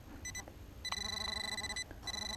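A metal detector sounds a low-range ringing tone while sweeping over a buried target during a coin hunt, a steady electronic hum with short beeps first, then a long sustained tone that breaks off briefly and resumes.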